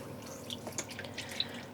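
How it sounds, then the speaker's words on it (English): Water drips and trickles as wet, freshly dyed yarn skeins, including a mohair-silk blend, are squeezed by hand over a sink. The sound is a quiet, close, uneven patter of drops. "I'm just squeezing out some of the water while I'm transferring the skeins"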